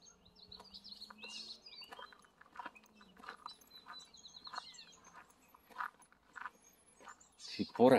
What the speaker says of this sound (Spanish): por acá pues podemos oír el cantido de diferentes pajaritos que andan por aquí